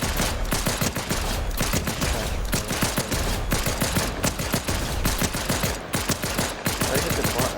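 Rapid pistol fire in the video game Fortnite rings out as a dense, fast string of loud, close shots that runs nonstop with no voices.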